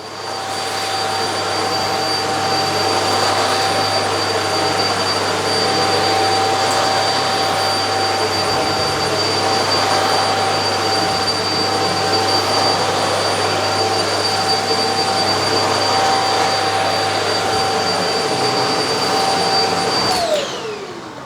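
Eureka Flash vacuum cleaner running continuously on carpet while picking up dirt, a loud steady motor whine with a high pitched tone and airy suction roar, cutting off abruptly near the end.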